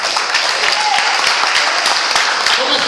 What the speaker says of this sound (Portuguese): Aplauda o Senhor, diga glória a Deus.